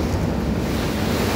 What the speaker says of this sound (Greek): φυσάει κιόλας